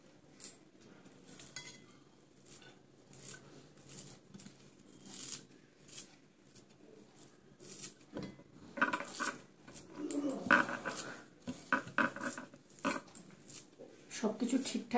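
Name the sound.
knife cutting coriander leaves in the kitchen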